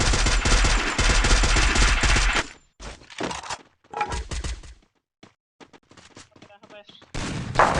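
Gunfire in the Free Fire mobile video game comes as loud, dense automatic bursts at first, then sporadic shorter volleys and cracks with gaps between, and brief voices heard among the shots.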